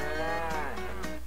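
A cow in the Minecraft ExpandMod game gives one loud, drawn-out moo that sweeps down in pitch, heard up close and alone.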